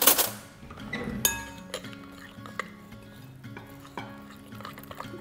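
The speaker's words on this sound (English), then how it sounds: "Now, give that a good stir through." Spoon stirring an olive oil marinade for lamb shoulder in a bowl, a series of close, light clinks and scrapes spaced irregularly, with soft wet swishing between.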